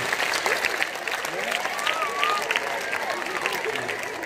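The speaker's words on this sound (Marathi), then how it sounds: "आपले शिक्षक आणि शाळेची टाळी" A school audience at a games and cooking competition claps for their teachers and school, steady dense applause running throughout, with voices calling out over it.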